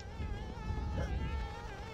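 Bees in the video game Conker's Bad Fur Day buzz in a steady, wavering drone with a few rising and falling tones, close and continuous, and no voices.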